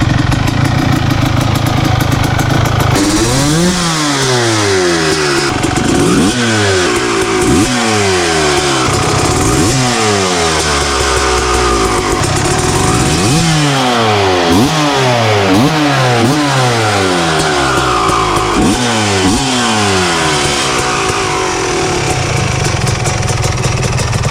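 A loud, cheap two-stroke dirt bike engine sputters to life on its first start and runs, revving up and down repeatedly with a raspy, buzzing tone and no voices.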